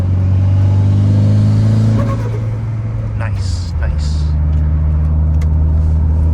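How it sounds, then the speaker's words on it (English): A turbocharged Mitsubishi Evo engine rumbles and revs with a deep, loud drone, pitch shifting as it climbs, while a person briefly speaks over it. "enjoy some turbo noises"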